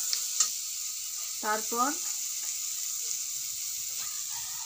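Cherry chutney sautés in a pan with a steady high hiss of frying and faint stirring, while a voice briefly speaks partway through.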